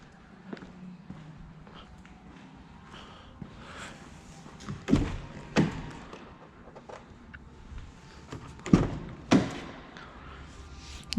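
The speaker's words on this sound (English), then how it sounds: "what I'm gonna do is open up all the doors on it really quick" Doors of a huge Ford F450 show truck with LED lighting and a leather interior are opened one after another, giving several sharp thumps and clunks at close range over a faint room background.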